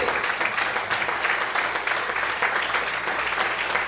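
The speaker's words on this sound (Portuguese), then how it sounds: "Quem crê nisso, aplauda." Steady applause from a church congregation during an evening worship service, dense and sustained for several seconds with no pauses, filling the room at close range.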